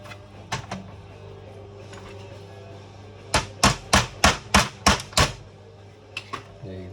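A screw is tapped to push the collar out of a Thunder Tiger Pro 21/28 RC engine during teardown. A couple of light knocks come first, then a quick run of seven crisp, evenly spaced taps close by.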